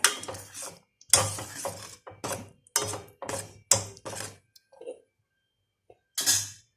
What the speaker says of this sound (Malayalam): അതിനുശേഷം ഒന്ന് നമുക്ക് ചെറുതായി ഇളക്കി വിടാം.